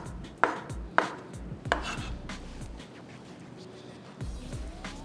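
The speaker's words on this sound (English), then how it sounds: "I'm going to just cut my soya chops and going to be putting it inside here" Soya chops sliced with a knife, three sharp near chopping strikes on a board early on, followed by softer scraping and occasional light knocks in a quiet kitchen.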